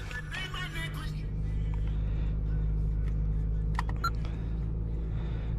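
A 2001 Toyota Camry with 149,000 miles idling after a cold start, heard from inside the cabin as a steady low engine drone, with brief clicks and faint interior sounds over it.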